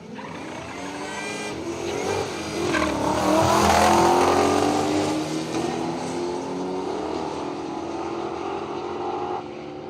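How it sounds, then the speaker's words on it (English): A bright yellow 1957 Holden FE launches down the drag strip at Willowbank Raceway, its engine roaring and revving hard as the tyres spin, swelling loud near the middle and then fading as it pulls away. "Spun the tyres hard, got a little bit sideways, the boot popped open"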